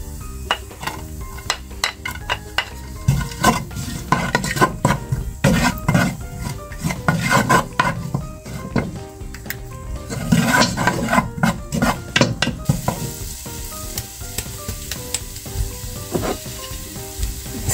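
Garlic fries in hot cooking oil, sizzling loudly and continuously, broken by repeated scraping and stirring strokes of a utensil against the pan.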